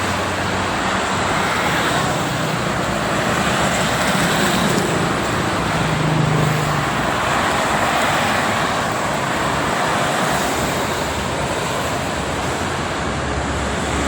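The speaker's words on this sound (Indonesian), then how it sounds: "Sangat ramai dari kedua arah, baik itu ke arah Cikampek maupun sebaliknya ke arah Jakarta. Banyak bis." Busy afternoon traffic on the Jakarta-Cikampek toll road, with many buses passing in both directions, forms a loud, steady roar of vehicles rushing by close and continuous, with no talking.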